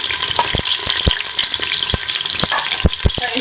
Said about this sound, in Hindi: घी हमारा गरम हो गया, इसके अंदर ये मैं प्याज डाल दूंगी